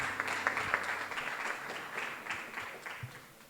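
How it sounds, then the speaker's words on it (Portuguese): Congregation applauding during a wedding ceremony in a church, fairly soft and somewhat distant clapping with a few sharper claps, lasting a few seconds and fading. "nós te aplaudimos, Senhor, nesta hora, em nome de Jesus"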